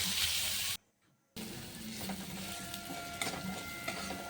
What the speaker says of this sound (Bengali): প্রত্যেকটা পেঁয়াজের টুকরো ভালোভাবে ভাজছিলাম